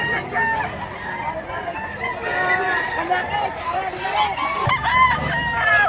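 At a busy poultry market in Lipa, Batangas, many chickens and roosters cluck and crow close by, with honking mixed in and people talking in the background.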